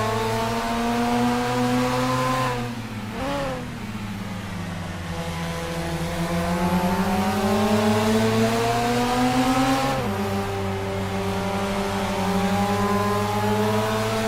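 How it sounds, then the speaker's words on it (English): A Mazda RX-8 race car engine recorded onboard during a race on a short oval, droning loud and close with rising and falling revs as it lifts and accelerates through corners. "this is the RX-8s on board with Billy Rowley."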